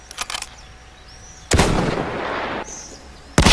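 Rifle fire with K-bullet ammunition in the video game Battlefield 1: a short burst of shots, then one loud, booming gunshot with a long reverberant tail, and another sharp shot at the end.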